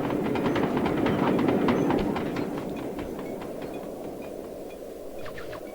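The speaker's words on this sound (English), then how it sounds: "It's where 3 trains basically intersect, which would explain the noise." Three trains converging at a rail intersection in Sly 2: a loud rolling rumble with rhythmic clickety-clack wheel beats and metallic clanks, heaviest early and easing slightly toward the end.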